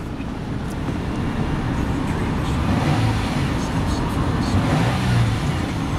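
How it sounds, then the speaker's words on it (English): A 2001 Nissan Pathfinder LE 2WD with 153 thousand on the clock idles and revs in a steady, close low engine drone that swells slightly midway, with no talk over it. "Revs up very nice"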